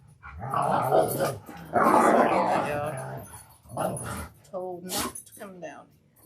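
A dog growls and barks in rough bursts close by, then whimpers, while a person speaks over it.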